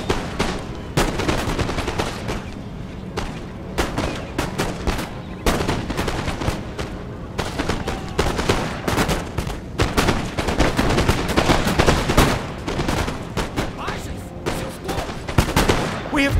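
Musket volleys from British 95th Foot riflemen in Napoleon: Total War crackle nonstop in dense, overlapping bursts, loud and close, like a massed battlefield firefight, with occasional voices barely heard beneath.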